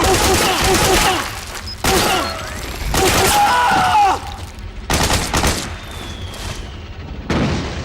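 Gunfire and explosions in the video game Metal Gear Solid 4, loud booming shots in separate bursts roughly a second apart, with groaning voices between them.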